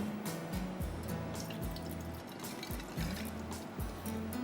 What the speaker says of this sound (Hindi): तो पहले मैं थोड़ा सा पानी डाल देती हूँ